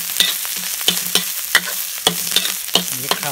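Spices stir-fried in a pan for Thai carp larb, a steady sizzle broken by regular scraping strokes of a spatula, close and loud with no voices.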